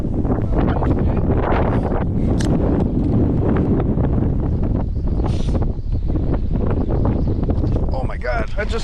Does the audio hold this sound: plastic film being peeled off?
no